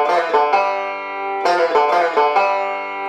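Bright plucked banjo notes ring out alone in quick bursts, a short rolling bluegrass lick repeated with small variations and brief pauses between phrases.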